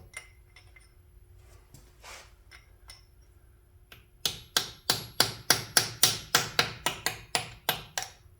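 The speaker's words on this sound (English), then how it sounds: "Trying to break that silicone seal." A tool strikes metal in a steady series of about sixteen sharp, ringing taps, breaking a silicone seal while a Perkins engine is taken apart. The blows come close, even and evenly spaced after a few quieter knocks and clinks.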